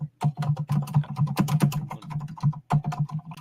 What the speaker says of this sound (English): that's a lot of loud typing there